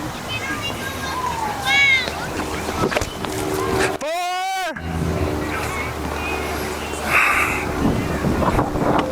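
Wind buffets and rumbles across the microphone on an open community park disc golf course, a steady close roar under intermittent talking, broken by a brief tonal burst.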